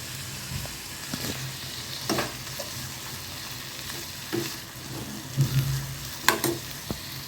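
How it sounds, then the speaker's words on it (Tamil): Chopped vegetables and tomato sautéing with a little salt in a pan, a continuous close sizzle broken by spatula scrapes and clacks against the pan, with no speech. "லைட்டாக உப்பு போட்டு வதக்கி எடுத்துக்கலாம்."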